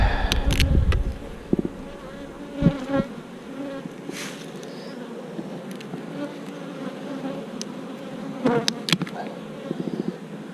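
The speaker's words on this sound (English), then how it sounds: "Let's see the condition of these bees here." Honey bees buzz around an opened hive packed with honey in March, individual insects droning close by in passing swells and dips over a quieter background hum.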